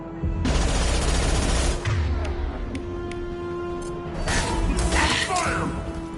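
Sustained gunfire in the Mass Effect 2 video game, a loud, dense burst of rapid shots lasting several seconds with a brief lull and then a second heavy volley, all close and filling the scene.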